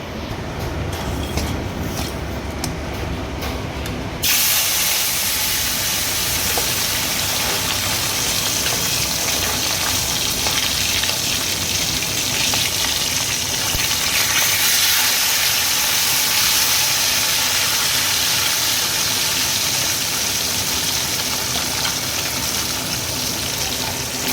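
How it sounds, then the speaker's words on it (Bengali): Fish frying in hot oil in a home kitchen, a loud continuous hiss and sizzle that jumps up sharply a few seconds in and then holds steady for the rest of the stretch, close to the pan with no talk. "মার তেল গরম হয়ে গেছে মাছগুলো ভেজে নেবো"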